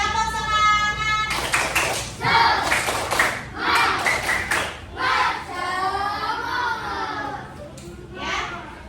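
Classroom students do a rhythmic spirit clap, with bursts of hand claps mixed with loud chanting children's voices in short, pulsing phrases.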